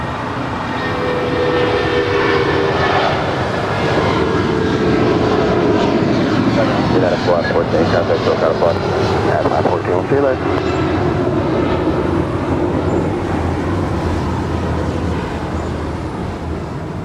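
An airplane taxis at LAX toward the gates of Tom Bradley, its engine whine and rumble steady and fairly loud from a moderate distance, with people talking over it.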